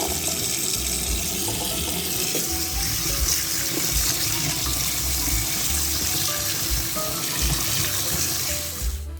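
Tap water pours continuously as a circuit board for replacement DS-12887 RTC chips is rinsed under it. The splashing is steady and loud at close range and cuts off at the very end, with no voices.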